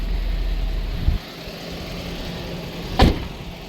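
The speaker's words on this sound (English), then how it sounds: "Runs amazing. Fresh new rebuilt engine, clutch, everything, the whole 9 yards pretty much." A freshly rebuilt engine in a 1988 Toyota dually flatbed truck runs at a steady low rumble, with a couple of brief thumps and a sharp click near the end.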